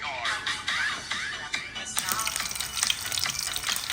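Garlic sizzling in hot olive oil in a pan for Filipino ginisang upo, a steady crackling fry that grows louder and denser halfway through, with a faint voice underneath.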